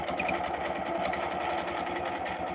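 A sewing machine stitches a curved arc in one continuous, even, whirring run, close and moderately loud with no talking.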